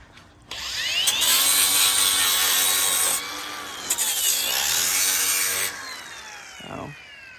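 A power tool runs loud and close, smoothing the cut edges of doors in two long whining passes whose pitch sags and rises under load, with a brief stop between them.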